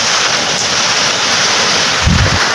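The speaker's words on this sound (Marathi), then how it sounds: "बघितलं तुम्ही कसं पाऊस चालू आहे" Heavy rain pouring down outdoors, a dense steady hiss with a low rumbling gust near the end, loud and close.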